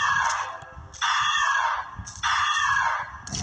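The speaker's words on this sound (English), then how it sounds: "If you guys are listening on like headphones, I recommend turning it down because it's like a screech almost." Loud, harsh screeches from a bunny owl enemy in a video game come in three long sustained bursts, close and piercing, with brief dips between them.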